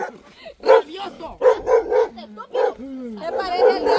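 A small dog barks and yips in short bursts up close, mixed in with people talking and exclaiming around it.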